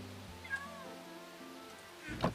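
A cat meows in a video game on the ImagineSMP server: one short meow, then a louder second meow near the end, heard alone and fairly faint.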